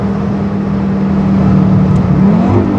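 Audi RS3 tuned to ABT Stage 1 accelerating hard, a loud, steady engine roar heard from inside the car that rises slightly in pitch toward the end.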